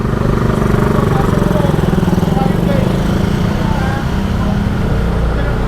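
A Yamaha Nmax 155 V1 scooter rides through flood water on a Makati street, its engine droning loud and steady throughout, with a voice audible over the engine noise.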